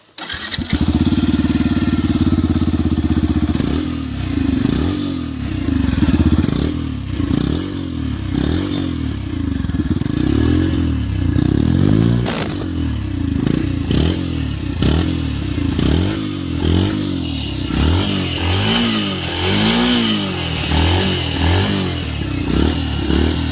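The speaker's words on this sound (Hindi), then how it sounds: "मैं आपको अब इसका इंजन साउंड सुनाता हूँ।" A Yamaha FZS V3 motorcycle engine idles with a throaty, pulsing rumble, then revs up and down repeatedly, loud and close, with some mechanical clatter.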